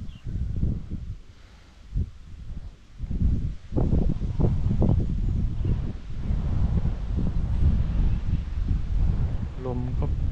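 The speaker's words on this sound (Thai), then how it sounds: "ลมก็โยกไปโยกมาเปลี่ยนทิศไปเปลี่ยนทิศมา" Wind gusts shifting direction over a lake in Chaiyaphum, heard from a small boat as a steady broad roar with rustling, under ongoing talk.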